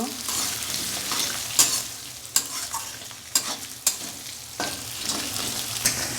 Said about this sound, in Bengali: চালটা আমরা ভেজে নিচ্ছি।